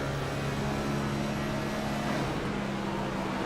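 Continuous droning NASCAR Next Gen race car engine in iRacing at Charlotte Motor Speedway, steady moderate revs short of full throttle, holding a constant pitch without pauses.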